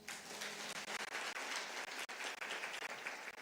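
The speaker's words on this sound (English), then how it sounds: "A round of applause, please." Loud, sustained applause from a conference audience, dense clapping filling the space with no voices over it.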